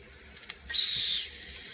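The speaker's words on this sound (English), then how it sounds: "We'll dump a little bit of pressure" Steam pressure is released from a Jensen Model 25 model steam engine: a sharp burst of hissing steam blasts out for about half a second, then settles into a steadier, quieter hiss that continues to the end.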